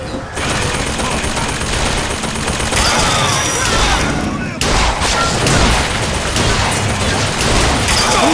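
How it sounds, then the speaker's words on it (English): Dense, loud gunfire in the video game Bioshock Infinite, sustained bursts and heavy booms from combat filling the whole stretch, with in-game voices mixed in under the shooting. "Who is shooting me?"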